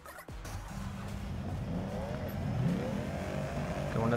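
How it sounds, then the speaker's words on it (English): A supercharged drift car engine in Torque Drift revs steadily and climbs in pitch with a whine, loud and continuous after a sharp start, with a shift-like dip partway through. "Going to third gear. Get that supercharger wind up."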